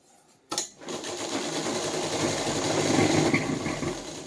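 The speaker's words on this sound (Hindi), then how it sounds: "हमें यहाँ से किनारे से मिला के किनारे तक बिल्कुल सीधी सिलाई लगा देनी है पूरी" A sewing machine runs a straight seam along a piping strip for a suit. It starts with a sharp thump, then holds a steady, close mechanical hum and rapid needle chatter without pause.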